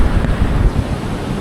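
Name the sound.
small sea waves on beach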